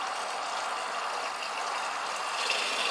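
A Flojet variable-speed pump motor drones steadily, gradually rising in pitch and intensity, whirring continuously without pause.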